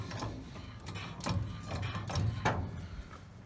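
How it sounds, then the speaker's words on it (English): A jack being pumped to raise the body of a 1936 Chevy coupe, giving a close series of metallic ratcheting clicks and creaks at an uneven rhythm, heard without any talking. "I'll jack up the body."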